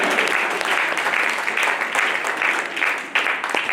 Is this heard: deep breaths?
no